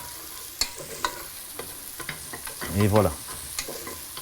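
Food cooking gently in a pan in a Martinique kitchen is stirred, making repeated sharp scrapes and clinks of the utensil over a soft sizzle. A brief voice is heard.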